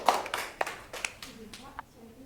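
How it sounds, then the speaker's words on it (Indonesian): Scattered hand claps come from a small group in a biology classroom session, with a few sharp claps and light patter mixed with voices. "tepuk tangan dulu dong buat yang udah maju"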